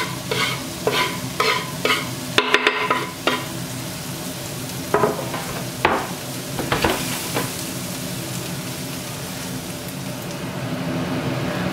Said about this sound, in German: das Fett ist jetzt schon ordentlich ordentlich heiß. Jetzt packen wir die Zwiebeln dazu.